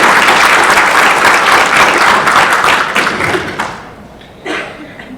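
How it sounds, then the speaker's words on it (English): Audience applause for city staff at a State of the City address, dense steady clapping from a large crowd that tapers off near the end before a brief last burst. "I think the staff deserves a round of applause for that."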